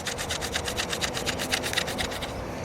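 A drill bit grinds slowly into the workpiece with a steady, rhythmic rasp, about ten strokes of scraping pulses close by. It struggles to cut and no voices are heard.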